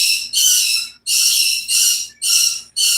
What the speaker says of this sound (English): Please pardon my birds; they are very excited singing along with Elmo.